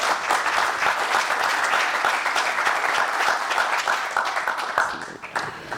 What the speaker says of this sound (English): Please give a warm round of applause for Ms.